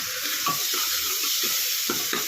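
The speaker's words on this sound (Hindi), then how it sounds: "मैंने एक बार घुमा दिया था, मैं फिर से घुमा रही हूँ।" Tomato mixture stirred in a pan as it cooks over slow-medium heat, with soft sizzling and a few scraping strokes of the spoon, close and steady with no talk.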